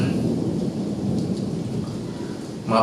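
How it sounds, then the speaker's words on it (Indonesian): Heavy rain falls outside in a steady loud wash, with a deep rumble of thunder underneath throughout and a brief sharper crackle near the end. "hujan-hujan harus syuting karena kalau enggak ya kapan lagi, hujan mulu soalnya."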